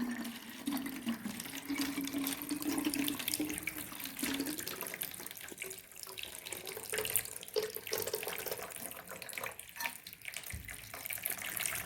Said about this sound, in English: now I am going to fill some water into the bottle.